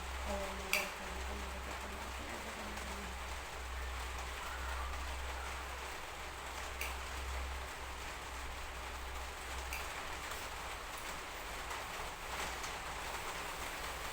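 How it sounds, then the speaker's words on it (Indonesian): Fairly heavy rain falls steadily outdoors, a constant soft hiss with occasional faint drips and knocks, at a moderate distance and without a break. "Hujannya lumayan deras nih teman-teman"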